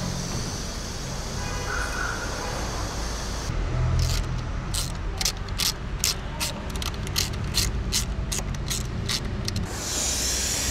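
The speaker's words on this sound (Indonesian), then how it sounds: "Ini lagi divakum dulu olinya." Oil being vacuum-extracted from a BMW at a car repair workshop: a steady mechanical hum runs throughout, with a rapid series of sharp clicking or ratcheting ticks through the middle section.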